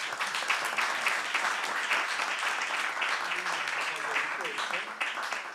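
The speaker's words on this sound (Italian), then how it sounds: "alla nostra giuria, alla quale farei un grandissimo applauso." An audience applauds the jury at the tenth Premio Letterario città di Olbia literary award ceremony, a sustained wash of many hands clapping at moderate distance, with a voice heard faintly over it.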